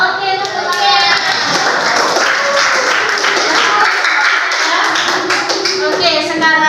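Children clap together in a classroom, a dense steady patter of many small hands that keeps going with no break, while young voices carry faintly underneath.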